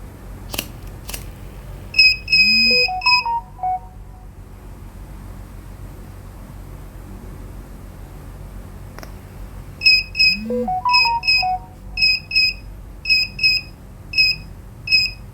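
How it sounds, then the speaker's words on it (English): The buzzer of a server room monitoring system, an IoT alarm project, sounds in two bursts of loud, high, rapid electronic beeps separated by several seconds of quiet, with a few short rising tones before each burst. "we'll turn on the buzzer"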